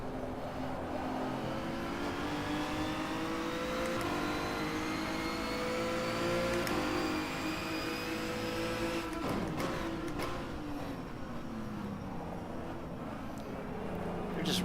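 Renault Megane race cars in rFactor 2 packed nose to tail on the Autodromo di Mores circuit, a steady sustained engine drone with shifting pitch sweeps as several cars rev and pass, no talk.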